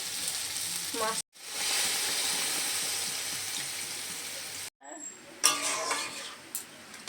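Fried masala sizzles loudly and steadily in a pan, cutting out briefly twice. After the second break, water goes in and the sound turns into a rougher, uneven bubbling with a few clinks.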